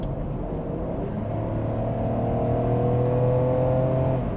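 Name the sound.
car passing by outside a Toyota Crown Estate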